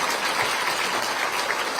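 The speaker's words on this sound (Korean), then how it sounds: "큰 박수 부탁드리겠습니다" Audience at a book-talk event applauding, a brief steady wash of clapping heard alone at moderate volume.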